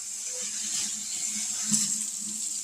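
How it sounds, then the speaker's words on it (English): Hot water running from a kitchen tap into a sink, a steady faint hiss of flowing water with soft splashing and a few light clinks underneath, heard alone without talk. "And that's hot water that I have running."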